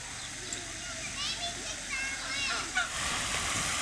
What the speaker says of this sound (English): Oh no, the birds are attacking me.